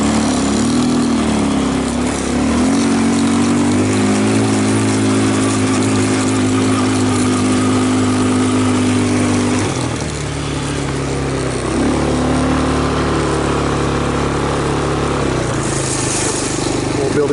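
A quad bike engine runs continuously on sandy trails in Queensland heat. The mid-pitched motor drones steadily, shifts pitch around the middle as the throttle changes, and stays loud and close throughout.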